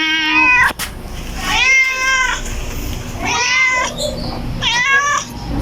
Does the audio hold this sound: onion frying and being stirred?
no